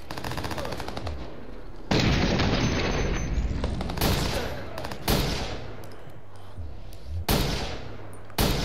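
Gunshots in the video game Watch Dogs on PS4 come as loud bursts of rapid automatic fire separated by short pauses, with several sharp, booming volleys.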